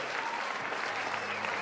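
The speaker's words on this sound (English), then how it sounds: "Let's get claps for everybody" Applause from a crowd fills the whole moment, a steady dense wash of clapping with no voices standing out.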